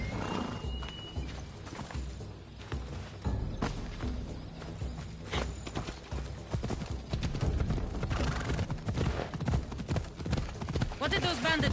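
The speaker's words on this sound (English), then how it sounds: "This would be faster on horseback." Horse hooves clip-clop at a steady riding pace in the ancient Greek world of Assassin's Creed Odyssey, layered under game music and ambient effects, with an occasional whinny and voices talking over the riding.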